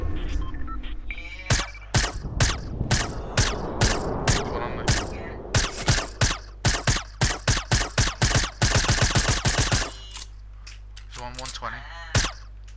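Rapid bursts of gunfire in a Fortnite firefight, loud and near, with sharp shots in quick volleys broken by short pauses, ending with a lone shot after a lull.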